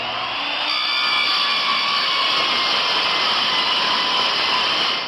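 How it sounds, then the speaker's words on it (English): A regular circular skill saw cuts through a pitched shower pan, a loud, continuous close-up whine and grinding rasp sustained for the full few seconds without talk. "we're going to go ahead and cut the pan with just a regular skill saw like you'd use to cut 2x4s"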